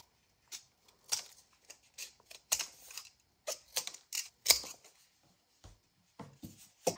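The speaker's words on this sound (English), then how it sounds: "Okay, so I'll cut this down like another centimeter." Scissors snip through fabric while a soft ring binder journal cover is trimmed by hand, a series of short, crisp, close cuts spaced irregularly in an otherwise quiet room.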